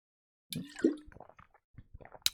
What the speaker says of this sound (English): I'm just going to have a quick drink of water.